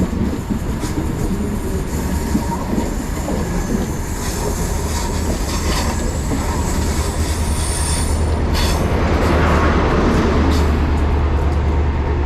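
A train departing Bristol Temple Meads station, loud and continuous rumble with rolling wheels and high squealing tones, building toward the end as it gathers pace close by.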